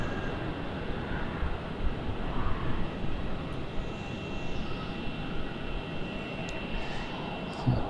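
Jetstar Airbus A321 inbound to Melbourne Airport from Sydney, a steady, broad jet engine roar heard from a distance with no clear rise or fall.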